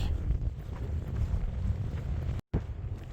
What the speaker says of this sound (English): Just wind and flatness. And wind, and more wind.